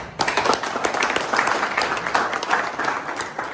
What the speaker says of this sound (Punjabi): ਦੇਖੋ ਜੀ ਤਾੜੀਆਂ ਮਾਰਦੇ ਕਰੀਏ